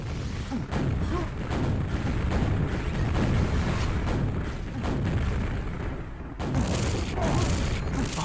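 Rocket explosions in a fast QuakeWorld deathmatch, a dense run of booming blasts and thuds in rapid succession with a brief drop-out near the end.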